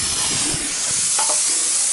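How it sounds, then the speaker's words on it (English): Steady, loud hiss of a spray gun coating a vehicle chassis during a truck rebuild, continuous and close for the whole moment. "Look, he's spraying his chassis"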